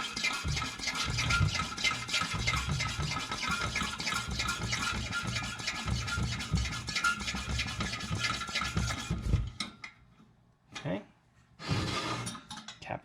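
The fuel tank of a Coleman 500 stove being hand-pumped, heard as a run of quick, rhythmic, close squeaky strokes over about nine seconds, followed by a pause and a few more brief pumping bursts.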